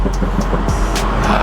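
A BMW F30 car engine idles with low, uneven burbling from the exhaust, steady and close, with a few faint higher hisses over the rumble.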